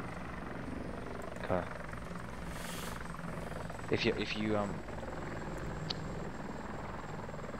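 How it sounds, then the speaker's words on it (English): A helicopter passes in ArmA 2, its low, steady rotor drone continuous under intermittent speech from players. "hello chopper. Goodbye chopper."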